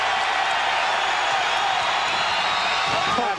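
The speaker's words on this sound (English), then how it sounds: "And that's got the crowd excited." A basketball arena crowd roars with excitement in a steady, dense wash of cheering and noise that holds throughout, with commentary faintly under it.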